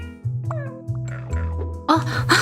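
Cartoonish cat meows from the puzzle game Cats Organized Neatly chirp out in short bursts over faint game music, with brief noisy clicks near the end.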